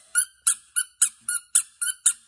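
A gumball magic prop squeaks as it is pulled, giving eight sharp, high, evenly spaced squeaks close up with silence between them.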